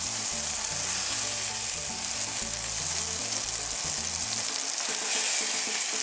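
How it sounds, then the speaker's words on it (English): Veal scallopini pieces, cooked two at a time, fry at high heat in a pan, giving a steady, loud, close sizzle throughout with light stirring noises and no talking. "I'm cooking the veal pieces 2 at a time."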